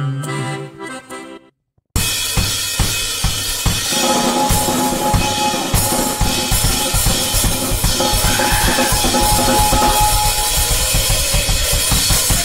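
A drummer plays a full kit at a birthday celebration, loud continuous beats and crashing cymbals coming in abruptly after a short quieter passage and carrying on densely to the end.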